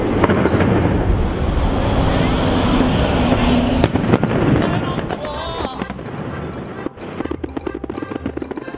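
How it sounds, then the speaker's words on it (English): Bonfire Night fireworks launched from Lancaster's medieval castle, heard as a dense, continuous rumble of bursts and crackles with sharp bangs. A crowd murmurs and talks underneath throughout. "enjoy the firework extravaganza launched from Lancaster's medieval castle"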